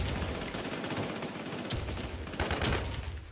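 Dense video game gunfire in a runner-style shooter, rapid bursts of automatic shots layered into a continuous loud clatter with no pauses and no talking.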